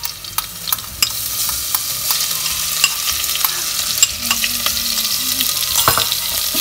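Chopped ginger and garlic sauté in a pan over medium-high heat for a restaurant-style matar mushroom sabji, giving a steady close sizzle broken by repeated scraping stir strokes, with no talking.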